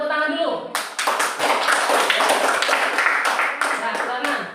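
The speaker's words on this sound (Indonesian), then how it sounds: "Ya biar semangat, tepuk tangan dulu." Hands clapping in a classroom as pupils are urged on before a group presentation, a lively burst of clapping from a group starting after a spoken line and continuing with voices mixed in.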